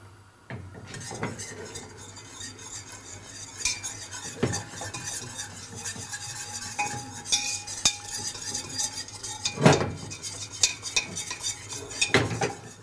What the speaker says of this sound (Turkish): İyice karıştırıyoruz bu içindeki unu